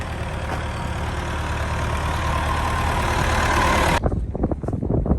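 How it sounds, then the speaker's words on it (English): A farm tractor driving along a rural road, its engine a loud, steady, close rumble that holds for about four seconds before cutting to quieter, uneven noise. "Here comes a farmer down the middle of the road with his tractor."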